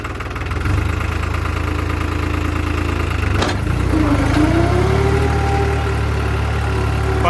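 A diesel tractor engine runs steady and close in first high gear around 1500 RPM, a loud, continuous knocking drone with one sharp thump midway before the pitch rises slightly as it pulls.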